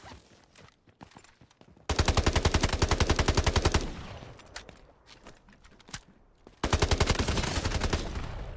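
Bursts of rapid automatic rifle fire from an M7 in the mobile shooter Delta Force Mobile, two long loud sustained volleys separated by quieter footsteps and scattered single shots.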